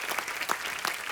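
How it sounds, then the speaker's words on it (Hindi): Studio audience at a comedy talk show bursting into loud, dense applause, a steady close wash of clapping hands lasting just over a second. "एक बार जोरदार तालियां हो जाए"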